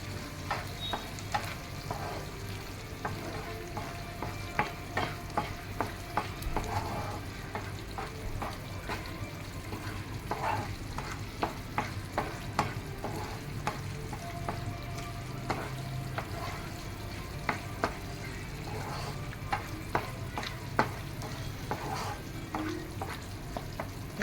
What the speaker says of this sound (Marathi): हे सगळं आपण व्यवस्थित परत मिक्स करून घेऊ.